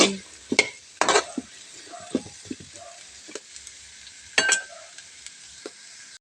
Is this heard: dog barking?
no